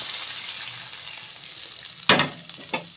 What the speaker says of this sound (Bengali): এটাকে সুন্দর করে এরকমভাবে নাড়িয়ে দিতে হবে